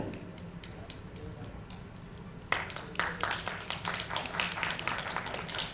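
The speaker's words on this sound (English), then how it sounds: "Let's do clapping and welcome them on the stage" An audience at a promotional event with a film's star cast, director and producer starts clapping midway, welcoming guests onto the stage. A steady patter of hands builds after a murmuring room and carries on to the end.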